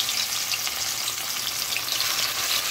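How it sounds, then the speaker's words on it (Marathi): Marinated surmai fish pieces fry in hot oil, giving a steady, dense hiss and crackle, close and continuous throughout with no voices. "ही मच्छी आणि मी तेल पण ठेवलं, एकदम व्यवस्थित गरम झालेलं आहे। त्याला आराम से सोडून मस्त"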